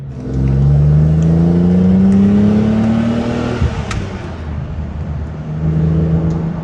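A V12 BMW E31 850i, back on the road after 14 years, revs up close by with a rising engine note, then drops back to a steady low rumble as it rolls along slowly.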